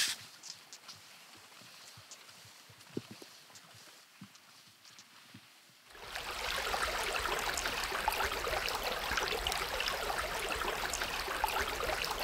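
Outdoors on a spring ski trip across snowfields, meltwater runs as a stream: faint trickles and scattered crunches at first, then a loud, steady rushing flow takes over halfway through.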